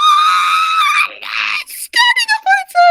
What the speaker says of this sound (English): There's this high-pitched screech.